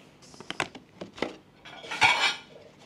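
A plate and cutlery clink and clatter as a Matilda cake is served, several sharp separate knocks followed by a longer scraping rattle, close and with no speech.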